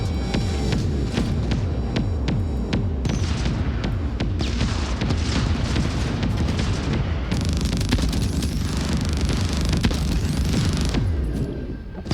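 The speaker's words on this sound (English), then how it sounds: "Oh, I see some shooting." Sci-fi weapons fire and explosions in the co-op space game Void Crew, with dense rapid shots and deep booms pounding continuously and loudly throughout, no voices over the battle.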